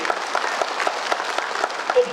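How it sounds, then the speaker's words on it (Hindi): Crowd applause at a political joining program in Agartala, dense steady clapping from many people throughout, loud and close. "ये करने से भी ताली होता है"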